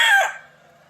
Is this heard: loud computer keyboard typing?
no